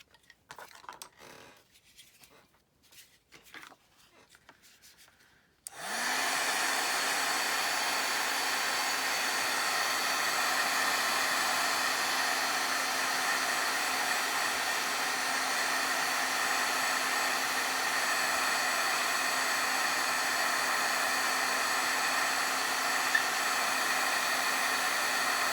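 A heat tool used for heat embossing switches on after a few quiet seconds of small handling noises, then blows with a loud, steady, close rushing hiss that continues unbroken.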